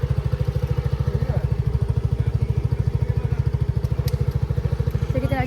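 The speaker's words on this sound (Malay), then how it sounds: "sekarang kita nak cuba bawa motor pula" A motorcycle engine idles and runs close by with a steady, rapid thumping pulse throughout, with people talking faintly in the background.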